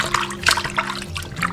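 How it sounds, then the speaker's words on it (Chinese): Eel being rinsed with clean water by hand, close splashing and trickling with uneven pulses over a second and a half, no talk. "然后再用清水清洗干净"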